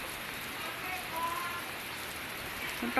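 Heavy rain pours steadily during storm Kajiki at a village in Laos, a dense, even hiss of drops hitting surfaces close by, with no voices.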